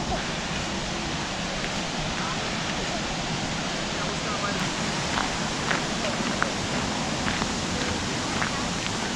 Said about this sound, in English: Hey, we made it to our first waterfall here.